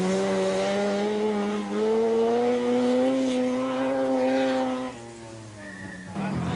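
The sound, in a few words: Mazda works rally car driven by Achim Warmbold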